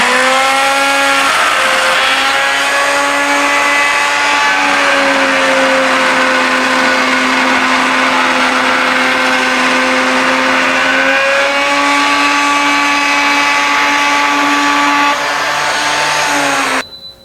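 A router with a 1.5-inch bit mills a cove into the end of a wooden walking cane, a loud, steady high-pitched whine held for about sixteen seconds with slight pitch dips as the cut loads, then a quick spin-down at the end.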